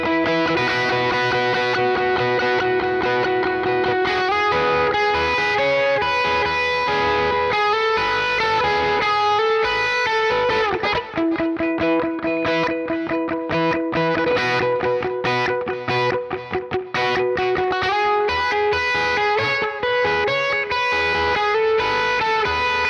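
Electric guitar played through the Bend Sun Butterfly 6 effects pack, lush sustained chords and lead lines with distortion and modulation coloring the tone, continuous and close, shifting to choppy rhythmic strums midway, no voices.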